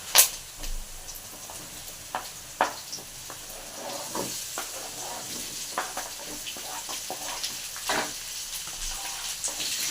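Chopped okra (lady's finger) frying in a pan with oil and salt, a soft continuous sizzle broken by scattered sharp crackles and clinks of stirring, close and moderately quiet.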